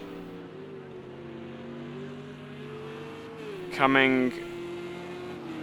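Race cars, among them a Porsche, running toward the hairpin at a Texas race, heard as a steady, fairly distant engine drone with a slowly shifting pitch, while a voice briefly speaks over it.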